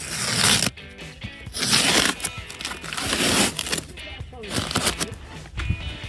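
Gaffer tape being peeled off the carpet of a 2016 Audi A3 to lift dog hair, heard as a run of loud ripping, crackling pulls in several bursts with brief pauses between them.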